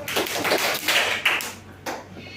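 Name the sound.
class clapping hands three times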